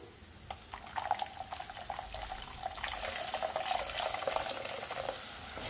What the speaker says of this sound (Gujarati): અહીંયા મેં મીડિયમ મોળી છાશ લીધેલી છે તો ઉમેરી દઈશું